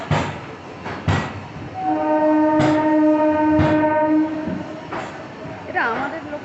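A train horn blares steadily for a few seconds amid station or platform commotion on a trip in Puri, Odisha, with people talking nearby before and after.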